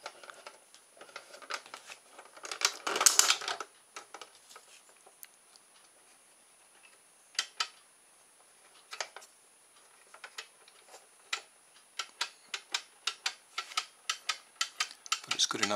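Ticks from a homemade pendulum clock kit with a plywood pendulum, sharp clicks coming in uneven clusters, quiet and close, with gaps of near silence between bursts.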